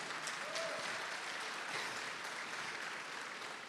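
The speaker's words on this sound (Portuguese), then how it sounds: "Estão até soltando fogos, aplaudindo o que eu estou falando" A church congregation applauds during a sermon, a steady wash of clapping from many hands that holds evenly for several seconds without a break.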